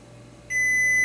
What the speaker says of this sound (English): This thing's about ready to beep.